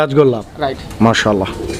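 Raj-golla pigeons, a one-colour pair on sale at a bird market, give soft throaty coos close by, mixed with voices talking over them in short bursts.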